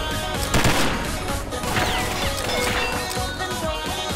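Rapid burst of video game gunfire during a Snow Valley match, a dense clattering volley of close, loud shots with crashing impacts, filling the whole short stretch.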